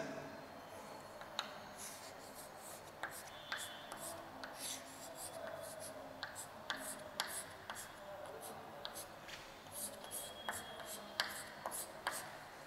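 Chalk or marker taps and scratches on a board during a physics lecture, with irregular sharp ticks and short strokes spread throughout, faint and mixed with quiet room noise and soft speech.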